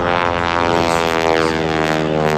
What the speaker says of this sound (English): This is one of the most iconic airshow airplanes in the history of this business.